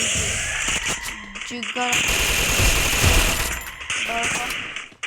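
Rapid automatic gunfire from a Counter-Strike style shooter game rattles in dense bursts throughout, loud and close, with voices talking over the shots.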